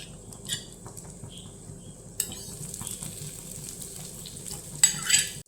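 Egg mixture cooks in a pan for a Spanish-style dish, a soft, quiet sizzle with scraping and clinking of utensils against the pan, growing busier toward the end.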